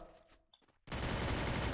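Quiet shuffling, then a sudden dense burst of rapid gunfire in the video game Free Fire that continues loudly to the end.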